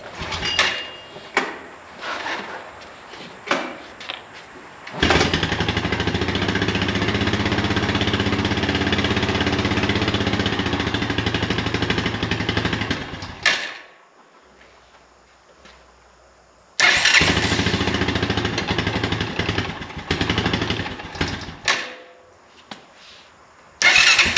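An ATV engine is choked and pull-started, with repeated short rattling cranks giving way to a loud sustained run for several seconds. It cuts out, then roars back briefly before sputtering into irregular bursts.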